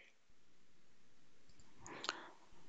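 A single computer mouse click selecting an OK button during desktop automation software work, a brief sharp tick over quiet room tone with no one talking.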